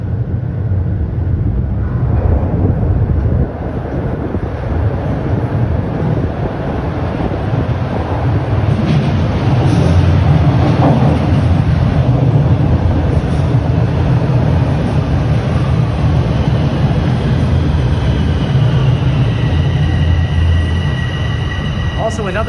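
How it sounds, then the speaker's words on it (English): A heavy, steady rumble of an eastbound Toronto Sheppard line subway train pulling into Bessarion station, with a low roar and faint high metallic tones toward the end. "I believe there's an eastbound train coming in."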